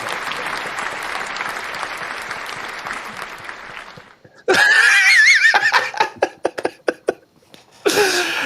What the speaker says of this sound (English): We gotta give Lee a round of applause and congratulations on their new manager, Dean Smith, ladies and gentlemen.